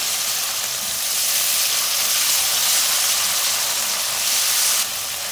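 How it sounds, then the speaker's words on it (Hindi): Garlic-ginger paste frying in a pan over lightly golden onions, a steady, loud broadband sizzle that holds evenly throughout and drops slightly at the very end. "1 टेबलस्पून लहसुन अदरक का पेस्ट डालूंगी। फ्राई करेंगे इसको।"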